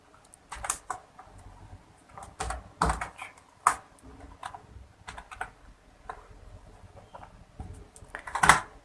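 Typing on a computer keyboard while entering text in a spreadsheet cell, irregular bursts of sharp key clicks and taps with short pauses between, close and fairly quiet.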